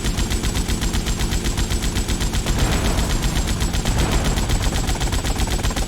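Fast, evenly spaced machine-gun fire rattles from a helicopter in GTA Vice City, loud and sustained throughout, with a droning engine beneath the shots.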